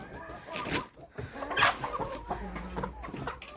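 Several chickens clucking and a rooster calling nearby, with busy rustling and scratching in a farmyard. Short bursts repeat irregularly.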